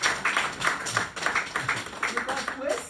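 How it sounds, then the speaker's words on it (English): Guests at a Ghanaian cultural wedding clapping for the groom, with a steady run of claps under ongoing voices and room noise, moderately loud. "Clap for this gentleman"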